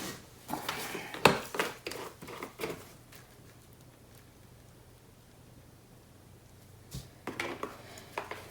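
Paint mix being stirred in a plastic cup, quick scraping and tapping strokes in a burst during the first three seconds, then near silence, with a brief second flurry toward the end.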